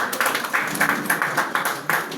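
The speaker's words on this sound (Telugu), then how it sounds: "దేవుని స్తుతిస్తూ ఒకసారి గట్టిగా చప్పట్లు కొడుతూ" A group clapping loudly in steady, even rhythm while praising God at a house-warming prayer gathering in Hyderabad; the sharp claps come quickly, close and fairly uniform, without speech.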